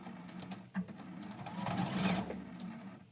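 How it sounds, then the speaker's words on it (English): A sewing machine stitches a quilted mug rug straight off the fabric edge and then runs a short backstitch, giving a steady, close mechanical whir that rises in the middle and briefly pauses. "I'm going to sew right off the edge. I'm going to do a little back stitch."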